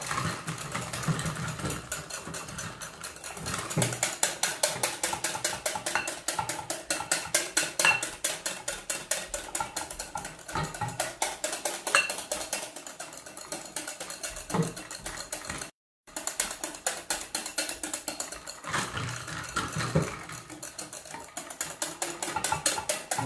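A whisk beats a thickening mixture in a bowl with rapid, even metallic clicking that goes on steadily and close, with one brief pause partway through.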